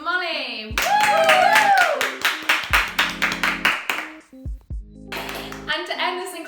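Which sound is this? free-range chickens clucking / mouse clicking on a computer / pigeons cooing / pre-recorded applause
pre-recorded applause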